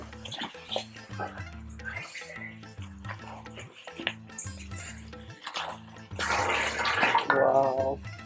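Water poured into a measuring cup in a home kitchen, a splashing, filling pour that rises loudly near the end, with people talking over most of it and clinking kitchen sounds.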